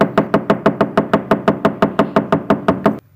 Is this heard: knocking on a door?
yes